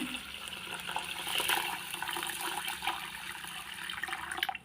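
Water sloshes and trickles steadily as lentils for dosa batter are swirled and rinsed in a bowl, close by and fairly quiet.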